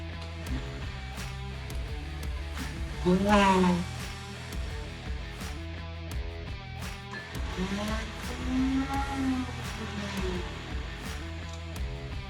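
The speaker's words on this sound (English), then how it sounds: "Spinning the starter, but it's not engaging." A 670 buggy's engine starter spins without engaging, giving two separate whirring bursts, each rising and then falling in pitch, over a low background rumble.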